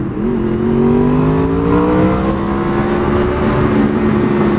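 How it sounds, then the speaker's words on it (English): A Honda VFR800 V4 motorcycle engine hums steadily under load, its smooth tone rising slightly then holding even, close and loud with no talking. "I just keep forgetting how nice this bike is to ride, and that V4 sound."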